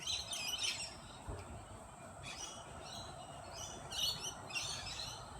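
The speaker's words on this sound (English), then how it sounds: "Those white parrots." White parrots at a backyard seed-feeding spot give scattered harsh squawks and chirps in a few short bursts, faint and distant over a low outdoor hiss.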